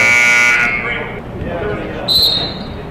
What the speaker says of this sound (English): that buzzer you heard was the shot clock